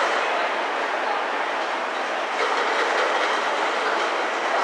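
Trains at a terminus station in Japan give a steady, loud rumble with clickety-clack wheel noise that holds throughout, with no talk over it.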